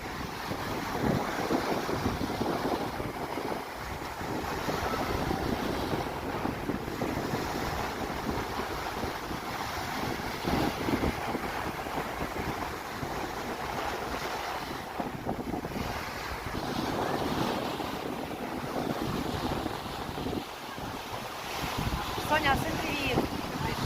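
Wind gusts buffet the microphone on a Bulgarian seaside beach, a constant roaring whoosh mixed with the wash of surf that swells and eases throughout.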